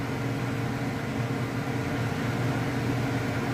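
An ION hooded hair dryer runs on its medium setting, giving off a steady, even fan whoosh with a low motor hum, close and unchanging, with no voices over it.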